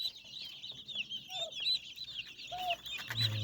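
Several chickens cluck and chatter nearby in a busy, overlapping flock, with soft low farmyard noise underneath.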